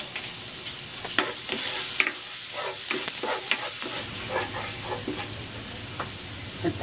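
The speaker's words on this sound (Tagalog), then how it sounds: "Igigisa ko na tong bawang." Garlic sautés in a pan for the sauce of a stuffed ampalaya (bitter gourd) dish, a constant hissing sizzle with a string of quick stirring scrapes and taps.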